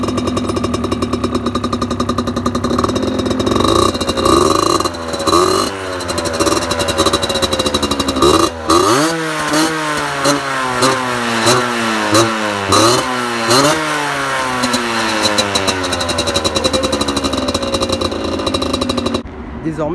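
A 2013 Derby Senda DRD 50cc motorbike, derestricted by modification, idles with a rattly two-stroke buzz, then blips its throttle repeatedly. The revs climb and drop in quick, loud surges, close by.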